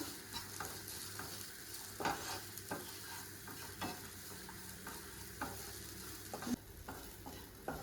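Leftover fried sardine pieces are stirred into a masala in a pan, giving a soft continuous sizzle broken by repeated spatula scrapes and taps at an uneven pace, quiet and close.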